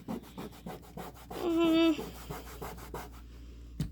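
Scrubbing strokes on a surface with light pressure, a steady rhythmic rubbing that repeats close by, with one brief tonal squeak partway through.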